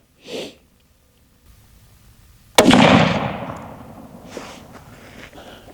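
A Remington rifle fires a single sharp, loud shot from a rest during load development at a range, followed by a roaring decay that fades over a few seconds, with a brief faint sound beforehand.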